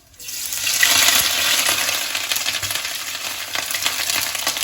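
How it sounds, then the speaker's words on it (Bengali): Grated coconut fries lightly in a pan, giving a loud, continuous sizzling hiss that swells early and then holds steady. "নারকেলটা কিন্তু হালকা একটু ভেজে নেব"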